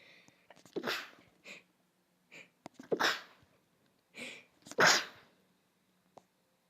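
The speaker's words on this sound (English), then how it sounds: "I'm gonna sneeze." Several sharp bursts of breath build up and then explode into a loud sneeze, followed by a second sneeze and quiet breathing.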